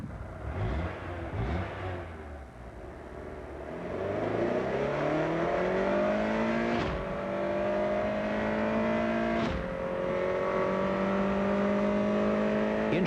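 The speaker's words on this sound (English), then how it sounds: "Introducing the 190 horsepower Prelude VTEC. It's very quick, no matter how you look at it." Honda Prelude VTEC, 190 horsepower, accelerating hard in a TV commercial, engine revving up through rising gear pulls with sharp shift breaks, loud and continuous with no speech.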